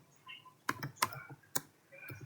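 A handful of crisp keystrokes on a computer keyboard, typed at an uneven pace in a quiet room.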